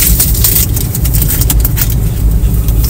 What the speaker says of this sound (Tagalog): kung naririnig niyo yung tunog ng